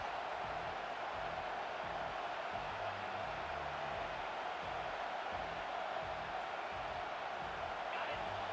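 A home crowd roars in a College Football 25 video game as the defense tries to get off the field on third down, a steady, dense wash of cheering noise throughout.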